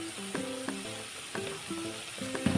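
Tomatoes and two tablespoons of coriander powder sizzle in a pan for an amaranth leaf curry, a steady frying hiss broken by a few sharp spoon knocks and scrapes as the mixture is stirred.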